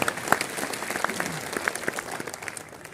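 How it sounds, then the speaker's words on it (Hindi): A crowd applauds to welcome a powerlifting world champion at a political gathering, with brisk, continuous clapping and a few sharper claps standing out. "इसलिए हम उसका भी जोरदार तालियों के साथ स्वागत करें"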